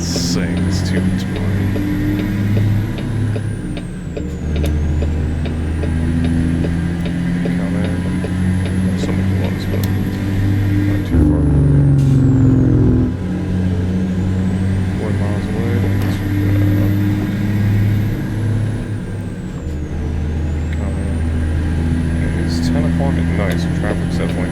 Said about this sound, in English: You can definitely feel the torque. Turbo fucking sings too.